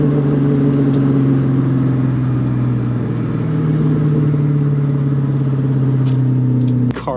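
A Ford Mustang GT, S550 or New Edge generation, drives with a steady loud engine drone and deep low hum heard from inside the car, with no talk.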